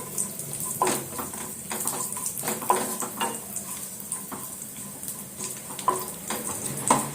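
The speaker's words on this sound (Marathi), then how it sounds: "आता तूप टाकल्यानंतर त्याच्यामध्ये आपण हे काही ड्रायफ्रूट्स आहेत ते थोडेसे फ्राय करून घेऊया" Dry fruits fry in ghee in a pan for ukdiche modak, giving a steady close sizzle. Soft scrapes and clinks of stirring run through it.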